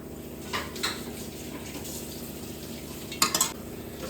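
Ghee and oil heat in a hot pan for bagara rice, a steady low hiss of sizzling with a few soft clinks and a brief louder clatter near the end.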